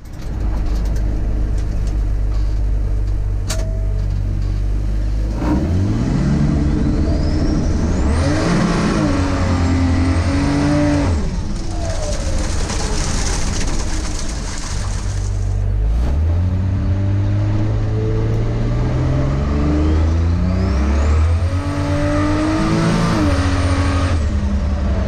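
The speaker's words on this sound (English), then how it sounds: "So I took it for a drive." A Studebaker car fitted with an Ameri-Barra engine drives along, its engine loud and close throughout, rising through repeated revving accelerations and gear changes with no talk over it.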